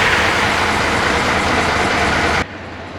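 A slipping fan belt on a Mercedes SK truck engine squeals loudly and continuously over the running engine for about two and a half seconds, then cuts off abruptly to a quieter engine rumble.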